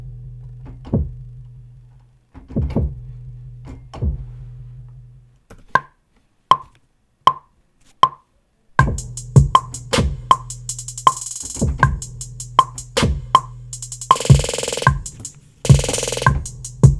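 A synthesized bass plays a series of short, plucky notes in a loose rhythm, sustained low tones under them, with a brighter layer joining later.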